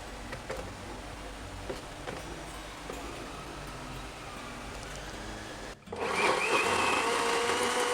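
A kitchen blender whirs steadily as it blends a sweet sauce of palm sugar, vinegar and water for Thai chicken rice, then switches to a louder, higher-speed whine near the end.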